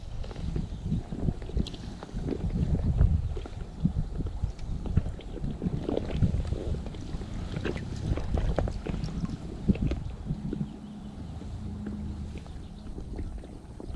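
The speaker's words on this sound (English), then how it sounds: "Just with this gusting wind changing direction." Gusty wind rumbles and buffets the microphone in uneven bursts outdoors while trout fishing, with faint water splashing and knocking in the background.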